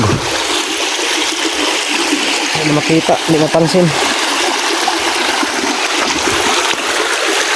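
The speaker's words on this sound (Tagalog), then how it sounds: "Malakas yung agos." A fast river current rushes steadily with a constant broad roar, while a person speaks briefly in Filipino over it.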